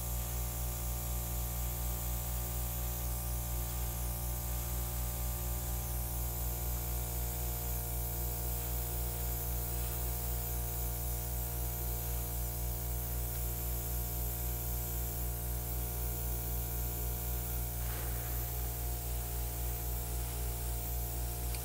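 An airbrush sprays acrylic paint with a steady, continuous hiss over a low compressor hum, unbroken and fairly even for the whole stretch, with no one talking.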